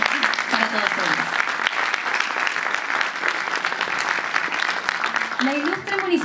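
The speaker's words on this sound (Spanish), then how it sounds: "Otro fuerte aplauso, por favor, para todos ellos." Sustained applause from a crowd honoring teachers at a Teachers' Day ceremony, dense steady clapping throughout with a voice speaking over it near the end.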